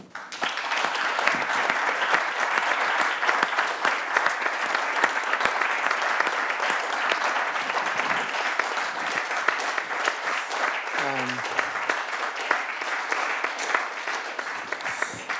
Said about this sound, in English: But I think we should clap